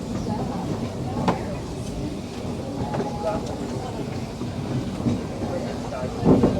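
The Disneyland Railroad train rolls along its rails with a steady rumble and occasional rhythmic clacks, heard from on board throughout.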